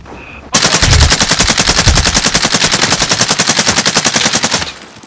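Rapid, sustained automatic gunfire in Call of Duty: Modern Warfare, loud and close, a continuous burst of evenly spaced shots lasting several seconds after a brief quieter lead-in.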